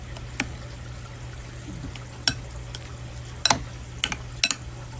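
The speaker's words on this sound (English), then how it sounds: "let's stir this in so make sure that cheese is all nice and melted" A spoon stirring melted cheese into a hot dish, a few faint, scattered scrapes and clicks against the pan over a quiet background hum.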